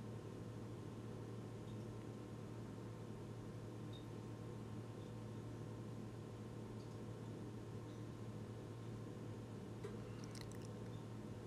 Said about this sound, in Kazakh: Жақсылап араластырамыз